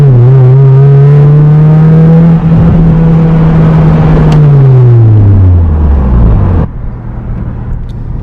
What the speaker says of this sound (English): This car is so loud, guys, you can hear it throughout the whole neighborhood.